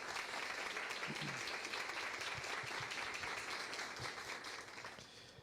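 Audience applause at a Brazilian academic conference round table on quilombola health, a steady, moderately distant patter of many hands clapping that fades slightly toward the end, with no voices over it.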